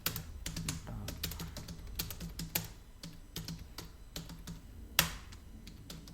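Steady, fairly quiet typing of code on a computer keyboard, a rapid, uneven patter of close keystrokes with one louder key strike near the end.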